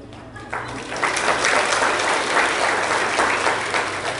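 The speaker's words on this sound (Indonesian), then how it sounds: "Coba sekali lagi tepuk tangan, kita dengar mana nih tujuannya." A congregation at a Malaysian interdenominational women's revival service bursts into applause, swelling from scattered claps into a full, sustained roar of many hands, with a brief voice heard at the start.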